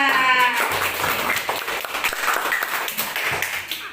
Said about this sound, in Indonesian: kalau sudah jelas beri tepuk tangan yang banyak buat Alan.